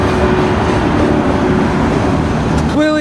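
A freight train rolls past close by, a loud, continuous rumble of rail cars, and a rising whine surfaces near the end.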